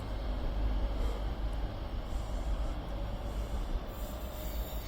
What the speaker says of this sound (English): Departing now is the 10:57 Northern Service to Stoke-on-Trent from Manchester Piccadilly.